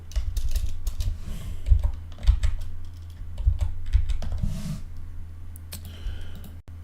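Rapid, uneven clicking of a computer keyboard while code is typed for a web project, with steady bursts of keystrokes continuing for several seconds and no talking.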